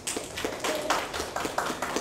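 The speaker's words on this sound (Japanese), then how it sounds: "拍手" Scattered claps from an audience at a municipal tourism planning meeting and workshop, a handful of soft, irregular hand claps at moderate distance in a quiet room.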